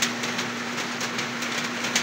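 Rain falls steadily outdoors onto a plastic sheet cover, a dense, even hiss with scattered patters that holds at one level throughout, with no voices.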